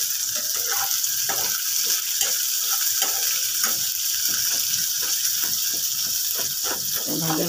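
Potatoes fry in hot oil in a pan, a bright continuous sizzle broken by repeated clinks and scrapes of a stirring utensil, close up and loud.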